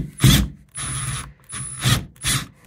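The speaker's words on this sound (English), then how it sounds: "you want to remove the screws" Interior door knob screws being backed out with a Phillips screwdriver, a few short ratcheting, grinding bursts separated by brief pauses, close and fairly loud.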